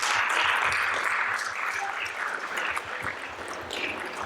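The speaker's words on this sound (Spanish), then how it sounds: "Un aplauso, por favor." An audience at a conference on the inclusion of autistic people applauds, sustained mixed clapping that gradually softens over the span.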